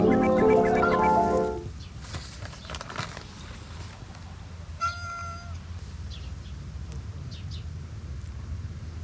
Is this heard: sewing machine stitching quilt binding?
no